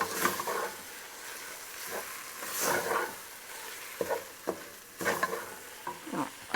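Beef rogan josh stirred in a pan with warm Indian spices, a spoon scraping in bursts of soft scrapes and light sizzle, close and fairly quiet, with pauses between strokes and no talking.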